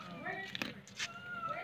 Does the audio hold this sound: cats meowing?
yes